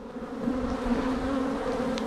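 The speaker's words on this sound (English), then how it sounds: "A little intimidating because I have these bees some sort of mad at me." Agitated honey bees swarm close around a beekeeper at the hive, a steady loud droning buzz that hovers and shifts in pitch without pause.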